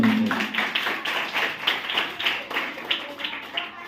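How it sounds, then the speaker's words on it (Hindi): Applause at a school farewell function honoring class 7 students: a crowd clapping in fairly steady rhythmic bursts, moderately loud and reverberant, with no talking over it. "उनके लिए एक बार जोरदार ताली बजाइए"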